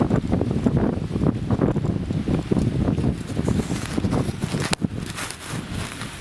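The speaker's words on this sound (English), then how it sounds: "You can see that wind out there." Strong wind gusting outdoors and buffeting the microphone close up, a loud rumbling roar that rises and falls with one sharp knock partway through. No voices.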